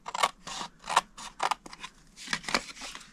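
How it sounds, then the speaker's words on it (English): Scissors cut a cardstock strip along score lines in a series of crisp, close snips that come in quick irregular bursts, about a dozen cuts in a row. "cut it to the second score line, take off the rectangle at the bottom"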